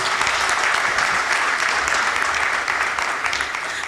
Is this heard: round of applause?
yes